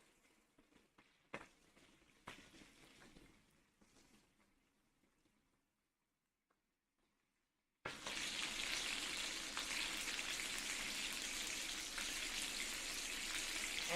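Pearl onions hit a hot pot for coq au vin and break into a loud, steady frying sizzle after several seconds of near silence broken by faint clinks.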